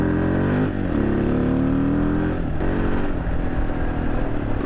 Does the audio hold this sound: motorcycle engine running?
yes